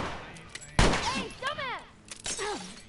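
Gunfire in The Last of Us Remastered: a loud sharp shot bursts out near the start, followed by scattered smaller impacts, with someone talking and excited voices over the action.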